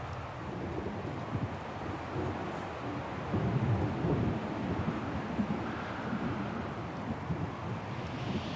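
Thunderstorm in the snowy dark mountains of the game Syberia: The World Before, a steady low rumble of thunder with wind and rain noise washing across throughout, swelling a little midway.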